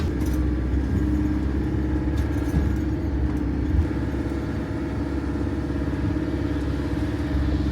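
A vehicle named Clifford drives across a sandy beach, its engine giving a steady, low, close rumble with continuous road-and-wind noise and no talk.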